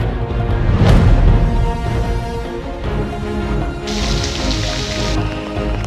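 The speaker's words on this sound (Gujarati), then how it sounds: "બગસરા, સાવરકુંડલા, ધારીમાં વરસાદ ધૂમ વરસી રહ્યો છે" Steady rain pours down in Bagasara, Savarkundla and Dhari in Amreli district of Saurashtra, Gujarat: a dense, continuous hiss of drops striking surfaces, fairly loud and unbroken, with no voices.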